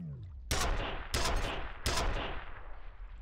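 Video game gunfire: three sharp, loud shots spaced about two-thirds of a second apart, each one trailing off into a short echoing decay.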